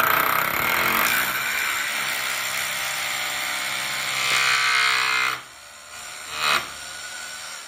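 A hammer drill whines steadily into wood for several seconds, countersinking a hole with its bit, then stops, followed by a brief second burst of drilling.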